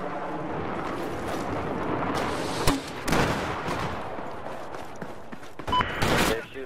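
Rockets and gunfire in the Battlefield 4 video game, with a constant rumble of battle noise broken by several loud blasts and bursts of shots, the heaviest near the start and the end.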